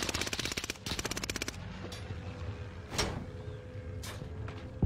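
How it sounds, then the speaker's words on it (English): Rapid rhythmic gunfire in Call of Duty Warzone rattles out in two short bursts, followed by a few sharper isolated shots that sound like sniper fire, fairly quiet and with no speech. "Oh, I'm getting sniped from the other side."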